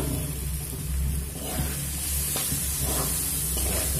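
Boiled chana dal hits hot frying spices and grated coconut in a pan for a Bengali kochu shak dish, giving a steady close hiss and sizzle with faint stirring scrapes throughout.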